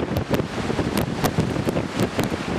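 Strong, cold wind at a remote southern beach buffets the microphone in repeated rough gusts, with loud, irregular bursts of blustery noise and no voices.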